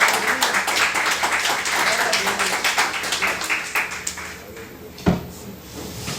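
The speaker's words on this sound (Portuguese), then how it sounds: "E dê uma salva de palmas ao Senhor." A church congregation claps for the Lord, many hands beating in a steady, dense rhythm that fills the room, then fading before one sharp knock near the end.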